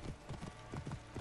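Horse hooves clip-clop in a quick, even rhythm in Assassin's Creed Origins, close and fairly quiet, with no talk over them.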